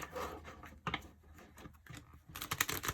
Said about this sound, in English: I'm using the Shaman Oracle deck. These cards are super hard to shuffle.